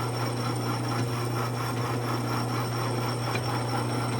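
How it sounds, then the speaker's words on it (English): South Bend lathe turning down 1 inch outside diameter steel pipe, a steady hum with a continuous scraping cutting noise, close and constant throughout. "Turning down a piece of 1 inch outside diameter pipe on the south bend lane."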